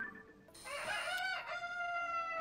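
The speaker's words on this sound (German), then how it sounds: "Hahn, Huhn." A rooster crows once, a loud drawn-out cock-a-doodle-doo in the Zelda: Tears of the Kingdom video game, standing alone with no voices.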